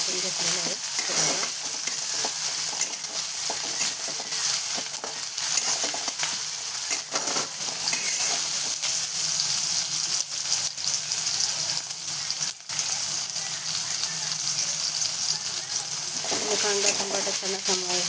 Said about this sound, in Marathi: थोडं कांदा टमाटर मी छान असा परतून घेतलेला आहे